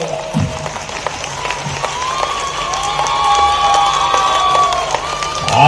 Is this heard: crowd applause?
yes